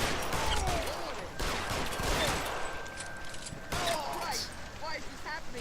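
Gunfire in an arson-case crime game, heard as sharp bursts over a steady background of game sound and music, with voices talking at points.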